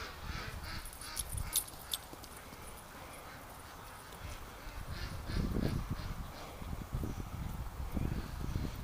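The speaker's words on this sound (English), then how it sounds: "Geese stop losing it, Doug stops running." A flock of geese honks outdoors in winter during a duck hunting outing: bursts of raucous calls, loudest early and again toward the end, over a rough, noisy background.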